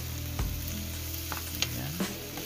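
Tomatoes sauté in a pan with a soft continuous sizzle, punctuated by a few light scrapes and clinks of a stirring utensil, close and fairly quiet without speech.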